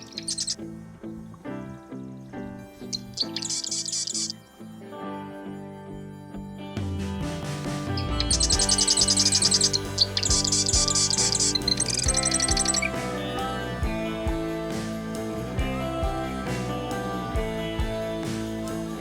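A marsh wren sings in a marsh beside a boardwalk, giving bursts of high, rapid, buzzy trills and chirps. Quieter ticking calls and background bird sounds fill the gaps between song bursts.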